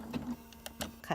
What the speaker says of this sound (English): I'm going to sew along the template to the corner